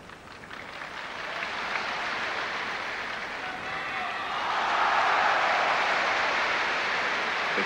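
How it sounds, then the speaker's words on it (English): Crowd at a 1986 men's gymnastics all-around final cheering and applauding for Liu Yun after his parallel bars routine, a broad sustained roar that swells louder partway through and holds, heard from a distance across the arena. "The cheer in the background there for Liu Yun, just finishing his parallel bars exercise"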